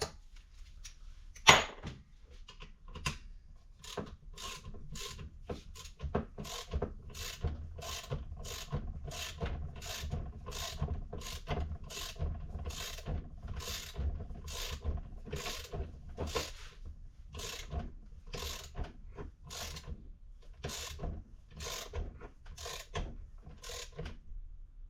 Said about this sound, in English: I believe this is 14 millimeter socket. And use your ratchet.